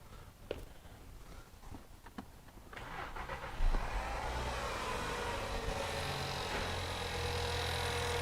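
A poorly running Subaru car engine turns over, catches and settles into a steady high idle, a constant droning hum that holds even and close after a few clicks at the start.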